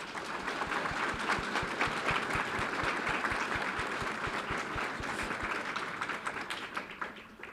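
A room full of attendees at a Fort Worth ISD school board meeting gives a round of applause, a moderately loud, steady patter of many hands that thins out toward the end.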